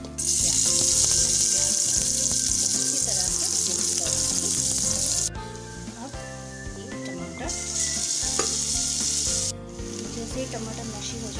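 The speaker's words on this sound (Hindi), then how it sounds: "हमारे जो लौंग है, सिनेमन स्टिक है, इलायची है, वो डाल दिए हैं।" Whole spices, cloves, cinnamon sticks and cardamom, fry in hot oil with a bright sizzle that cuts in and out in bursts, with musical harmonic tones running underneath.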